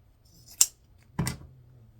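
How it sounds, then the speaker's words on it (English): Two crisp snips of scissors cutting wired ribbon tails for a bow, evenly spaced about half a second apart, close and clear against near silence. "I fold them on itself and cut it aslant towards the wired part."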